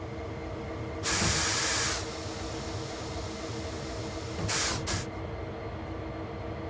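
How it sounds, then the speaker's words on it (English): Two bursts of loud pneumatic hiss from a train's automatic air brake releasing in Train Sim World 6, one long and one short double puff, over a steady low engine rumble. "Next, fully release the automatic brake."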